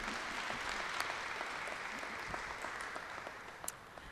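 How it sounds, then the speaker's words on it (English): Applause for class of 2023 graduates at a graduation ceremony, a broad even wash of many people clapping, steady and moderately distant throughout. "can we get a round of applause for everyone once again?"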